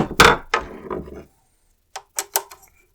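Light taps on a loosened screw of an SR Suntour Aion suspension fork during servicing: a few close, sharp knocks at the start, then a short gap and a quick cluster of three or four fainter clicks.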